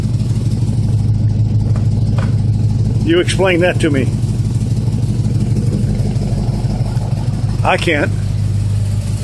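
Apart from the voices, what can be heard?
car engine running on someone's vapor carburetor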